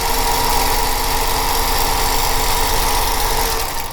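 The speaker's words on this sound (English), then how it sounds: "I'm going to sew 1/4 of an inch on the other side." Sewing machine stitching a quarter-inch quilt block seam, a loud, continuous, rapid mechanical whir close by, running steadily with no talking.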